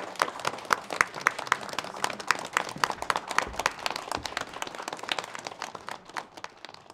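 A modest classroom audience claps to welcome a professor from a provincial academy of social sciences, individual sharp hand claps standing out over a thinner background patter.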